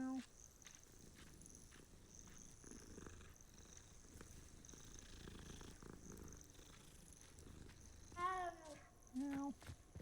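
A cat in the Hogwarts Legacy video game purrs steadily under faint game ambience, then gives a couple of short, clear meows near the end.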